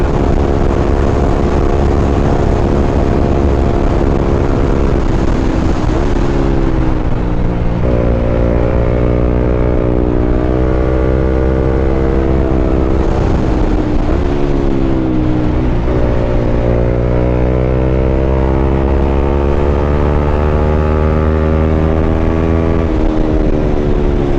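A Honda CB150X motorcycle engine drones steadily while riding, its harmonic pitch rising and falling through gear changes and throttle shifts, loud and close with constant wind noise throughout.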